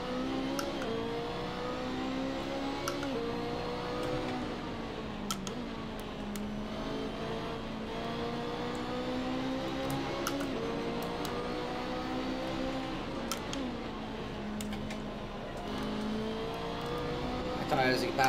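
BMW race cars lapping Monza in a racing video game, a continuous engine drone with rising and falling revs as gears change, several cars audible together, steady and fairly loud with occasional clicks and a voice speaking over it.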